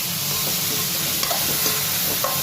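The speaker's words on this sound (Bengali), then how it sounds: "তো সব মশলাগুলো একসাথে একটু ভালো করে নাড়িয়ে নেব।" Spices for a vegetable curry stirred and frying over a high gas flame, a continuous dense sizzle with light scraping of the spoon, close and loud with no talking.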